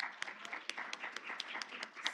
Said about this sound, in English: Can we give another round of applause just to congratulate her?